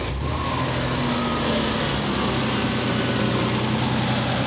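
A high-mileage Ford Bronco II with badly clogged injectors idles roughly nearby. The engine gives a steady, uneven chugging rumble throughout with no talking.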